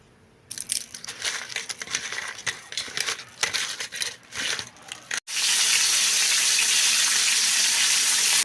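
Prawns coated in turmeric and salt: first crinkly handling and crunchy rustles, then an abrupt loud rush of frying as they hit the hot oil, a steady, close, hissing sizzle to the end.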